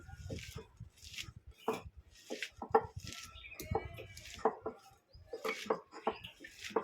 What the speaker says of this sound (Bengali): শুকনো উপকরণগুলো ভালো করে সব মাখিয়ে পেঁয়াজটাকে ভালো করে চটকে নেব